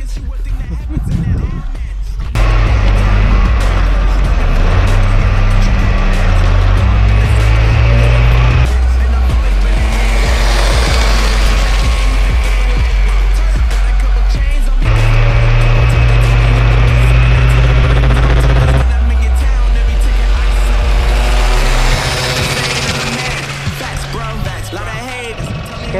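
A homemade reverse trike on a test drive: its engine roars up close and loud, climbing through two long surges of revs, with brief tire squeal and a quieter trailing end.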